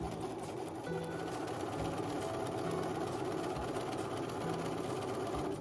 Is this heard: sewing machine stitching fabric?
yes